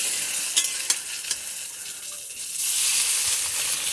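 Helencha fritters sizzling in a frying pan while being turned, a steady hiss of hot oil with a few soft clinks and scrapes of the spatula, the frying swelling louder once the fritter is flipped.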